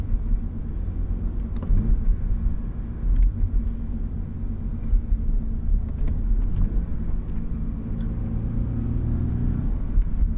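A 2024 Subaru BRZ tS engine runs with a harsh, coarse low rumble, holding a steady, moderately loud drone throughout with a few light clicks on top and no voices.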